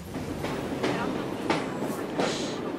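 A train rolls along rails in the video game Assassin's Creed Syndicate. It makes a steady rumbling roar with rhythmic clacking bursts about every half second, and a faint voice sits underneath.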